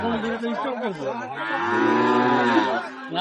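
Sahiwal cattle at a livestock market (haat) in Ambari low with long, drawn-out moos, loud and close, over murmuring voices and crowd chatter.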